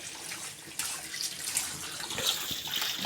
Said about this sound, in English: the benefit of washing them like this with running water